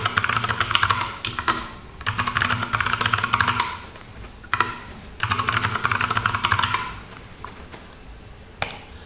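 A password typed on a computer keyboard while setting up elementary OS Linux, rapid close key clicks in three bursts separated by short pauses, with a steady low hum underneath.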